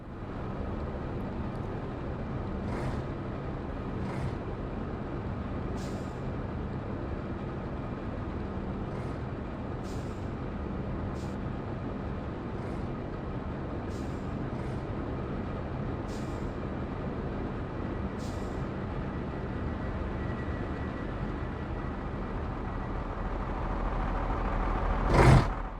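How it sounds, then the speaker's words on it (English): A truck drives through a tunnel in the game Hitman, heard as a steady low engine rumble with faint periodic ticks and hisses, swelling into a louder burst at the very end. "The truck stops at different locations inside the tunnel."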